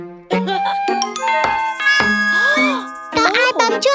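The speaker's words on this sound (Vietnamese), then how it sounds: "Có ai bấm chuông kìa mẹ ơi." A doorbell chimes in a Vietnamese children's cartoon, its bright ding-dong tones layered with cheerful music and a voice speaking.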